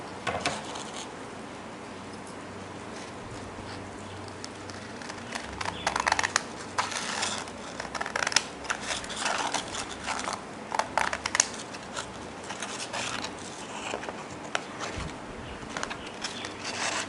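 Scissors cut through a strip of adhesive-backed sandpaper for a homemade knife-sharpening kit, giving close, repeated crisp snips and gritty rasps that run on and off for about seventeen seconds with no talking.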